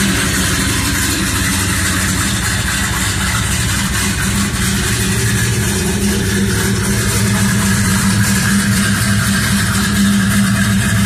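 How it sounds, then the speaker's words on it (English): A 1969 Dodge Super Bee with a 440 Six Pack and four-speed settles toward idle, a steady, loud, close rumble with a deep low-end burble running the whole time and no talking. "it'll come up to an idle here in a minute."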